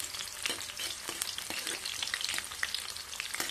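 Red onion and garlic sizzle steadily in a hot pan with a crackling, popping fry, close and moderately quiet, with no voices.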